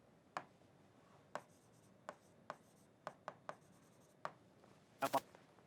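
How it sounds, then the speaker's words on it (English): Teacher writing on a board during a physics lesson: quiet, irregular scratchy strokes and taps spaced apart, ending in a quick cluster of marks, with no talking. "Let me write it again."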